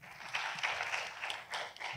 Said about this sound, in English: A round of applause for all of our debaters.